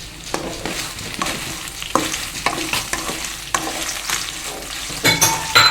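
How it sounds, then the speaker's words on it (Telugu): Garlic and dried red chillies fry in a pan with coriander seeds, a close, steady sizzle broken by repeated scraping stirs, rising to louder crackling at the end, with no talking. "ఇది కొంచెం ఫ్రై చేసుకోవాలి నెక్స్ట్ వెల్లిపాయ ఎండుమిర్చి"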